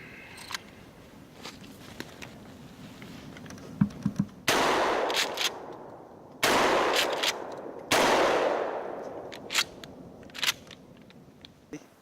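Several loud gunshots ring out outdoors at a shooting session, with sharp blasts spaced a couple of seconds apart and lingering echoes after each, among quieter clicks and handling noises.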